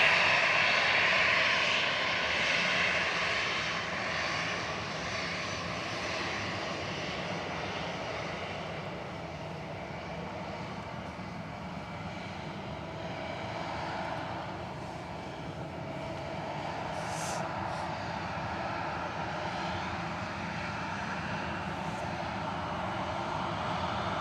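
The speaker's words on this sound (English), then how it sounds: "This one's departing to Geneva with flight 2187." Fixed-wing airliner departing Manchester Airport for Geneva, a distant, steady engine roar that swells slightly and lingers throughout, alone without talk.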